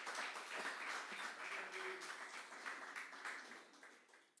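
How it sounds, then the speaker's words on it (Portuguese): A church congregation applauding steadily, a dense wash of many hands clapping at moderate distance that slowly tapers off, with no talk over it. "aplauda ao Senhor"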